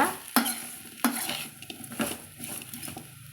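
Boiled tapioca tossed with salt in a pan, a spoon scraping and clinking against the metal in a few distinct strokes over a soft sizzle, close and alone without voices.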